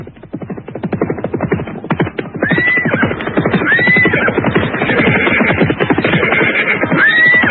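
A cavalry troop arrives in a radio drama: a rapid patter of many hooves clip-clops throughout, while several horses whinny loudly and close by at intervals over the galloping.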